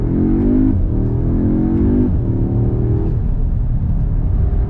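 A 2022 Audi S3 pulls hard under throttle with manual shifts: loud rising engine revs climb, break off at each gear change and climb again, three or four pulls in a row, heard close and without talk.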